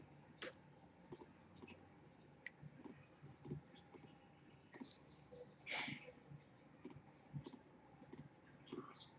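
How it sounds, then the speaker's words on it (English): Left mouse clicks on a computer mouse while digitizing embroidery, sounding as soft, scattered, irregular clicks close up over a faint background hum, with no talking. "These are all just left mouse clicks all the way around."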